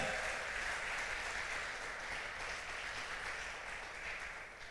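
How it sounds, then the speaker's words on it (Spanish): Congregation applauding during a Spanish-language church service, a dense, steady wash of clapping that runs the whole time and tapers slightly at the close. "Podemos dar un aplauso fuerte al Señor en esta mañana."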